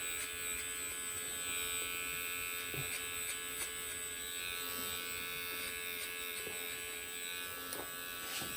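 Electric hair clippers hum steadily through a clipper-over-comb pass while cleaning up a hairline, a close, continuous buzz with small clicks and comb contacts scattered through, no talking.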